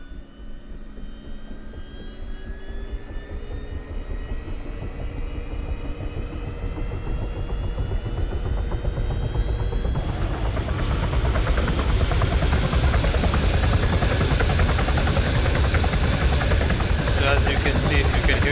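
A helicopter in the video game ArmA 3 drones with steady rotor and turbine noise, loud and continuous, growing brighter and fuller partway through.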